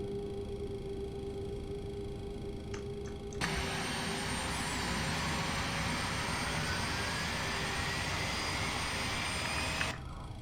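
Boeing 737-300 jet engine spooling up in a flight simulator game, a steady rising whine and roar that starts abruptly, holds at a constant loud level, then drops back to a quieter hum.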